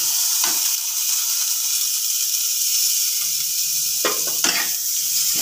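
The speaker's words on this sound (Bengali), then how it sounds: "টমেটোটা দিয়ে আরও কিছুক্ষণ ভাজবো।" Tomato added to a pan of frying spices including coriander and cumin gives a steady close hiss and sizzle with a couple of brief stirring scrapes, no talking.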